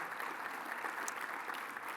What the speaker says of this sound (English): Round of applause for our board members.